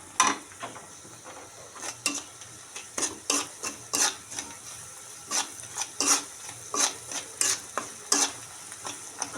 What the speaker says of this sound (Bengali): এখানে পেঁয়াজ রসুন আর কাঁচামরিচ একসঙ্গে এই যে ভেজে নিচ্ছি লবণ হলুদ দিয়ে